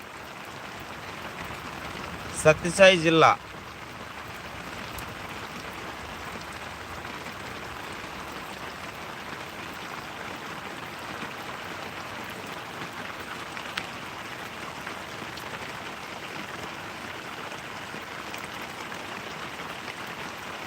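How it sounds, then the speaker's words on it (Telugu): Heavy rain pours steadily in Sri Sathya Sai district, with water pooling on the ground, a constant loud wash of noise throughout, briefly broken early on by a short burst of a voice. "వర్షం అయితే బలంగా వస్తూనే ఉంది చూడండి వర్షపు నీళ్ళు ఎట్లా నిలవనే చూడండి వర్షం అయితే బాగా వస్తుంది ఇక్కడ"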